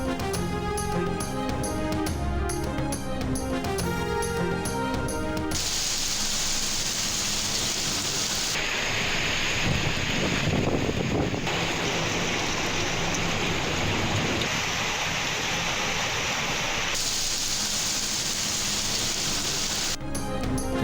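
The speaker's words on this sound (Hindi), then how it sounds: "इस्लामाबाद और पंजाब के मुख्तलिफ शहरों में मूसलाधार बारिश।" Torrential rain pours in Islamabad and Punjab, a dense steady hiss of rainfall with faint traffic rumble, broken at the start and end by stretches of music.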